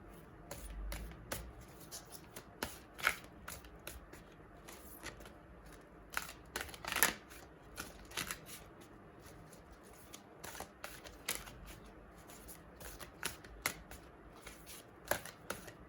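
Oracle cards being shuffled by hand, a close, quiet run of crisp riffling bursts and flicks in irregular clusters with pauses between them, with no talking.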